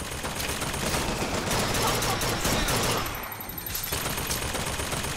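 Rapid carbine gunfire in Bioshock Infinite, dense bursts of shots and combat noise running almost continuously at high volume, easing briefly before picking up again.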